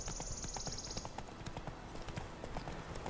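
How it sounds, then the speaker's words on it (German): Horse hooves clip-clop in a steady trotting rhythm while riding in the video game The Witcher 3, loud and continuous, with a brief high whine at the start and game background sound underneath. "Und jetzt reiten wir durch die Gegend"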